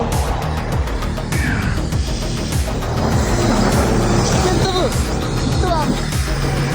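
A Chevrolet Trailblazer with a 2.5 diesel and a 3.3 Kia Sorento accelerate side by side in a race, engine roar rising as they pull away, with people talking over it.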